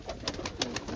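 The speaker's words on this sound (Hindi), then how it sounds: "इस तरफ ये कबूतर बैठा है।" Pigeon in a nest beside eggs and chicks, a few soft, close, low coos in quick succession over quiet background noise.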